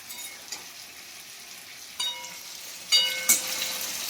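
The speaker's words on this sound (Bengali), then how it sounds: "আর এখানে হচ্ছে কি, পনির ভাজা হচ্ছে।" Paneer fries in a pan with a quiet, steady sizzle, broken by a few sharp metallic clinks of a utensil against the pan.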